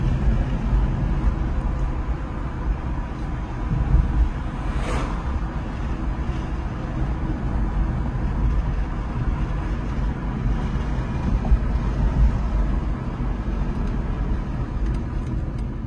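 BMW 330e xDrive Touring plug-in hybrid estate driving in electric mode, a steady broadband road and tyre roar heard from inside the cabin, continuous and fairly loud with no voices.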